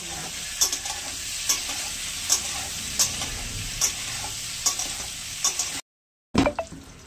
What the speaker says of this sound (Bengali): একটু লবণ দিলাম, একটু হলুদ দিলাম, ভেজে তুলে নেবো আলু।